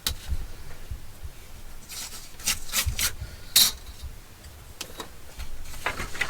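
Trimming a handmade notepad, with close scraping, rubbing and ticking sounds that come in uneven bursts and a few sharper clicks over low room noise.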